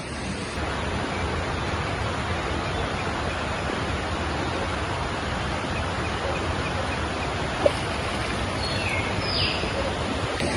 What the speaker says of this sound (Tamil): இந்த சைடில் அழகா நீரோட கூடிய அழகான ஒரு ஓடை